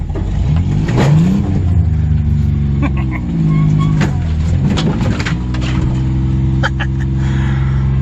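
An off-road truck engine revs loudly close by, its pitch rising and falling as it works over rough ground, with intermittent knocks and clatter and some talk mixed in.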